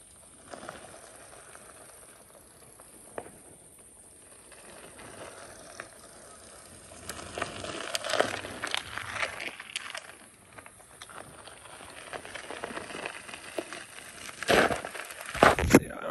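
Someone pedals around on a small BMX bike with an improper seat post, the frame too small for the rider; a rustling, clattering mechanical ride with creaks and scrapes, quiet at first and growing louder and busier toward the end.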